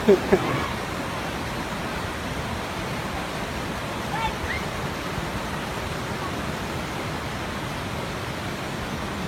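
Antong Falls swollen after overnight rain, a steady broad rush of falling water heard nearby and continuously, with a brief louder knock at the start and a voice faintly speaking under the roar.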